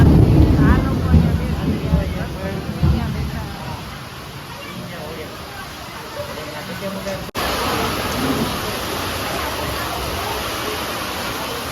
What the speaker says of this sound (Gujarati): વરસાદ તો છે ને બંધ રહેવાનો જ નથી